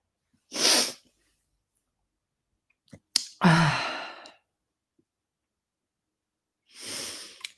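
A person sneezes sharply, with a long sighing breath before it and another breathy exhale a few seconds later, close and alone in a quiet room.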